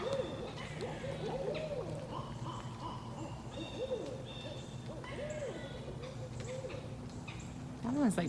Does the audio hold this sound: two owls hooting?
yes